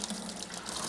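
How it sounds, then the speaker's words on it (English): Sludgy water drains steadily from an opened valve on an aquaponic tank, a continuous soft trickling and gushing flow heard alone with no talk. "So I'm gonna open this valve here"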